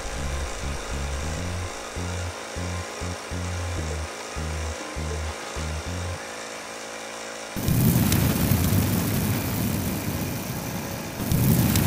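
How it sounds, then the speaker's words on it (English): A compressed-air torch ignites into a loud, broad roaring flame after a stretch of rhythmic pulsing machine noise, the hissing roar holding steady and swelling again at the end. "Adjust the compressor pressure to fine-tune the flame."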